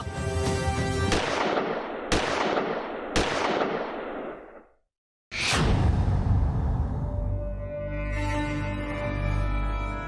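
Three loud gunshots about a second apart, each ringing out, then a brief silence and one more heavy blast with a long rumbling tail.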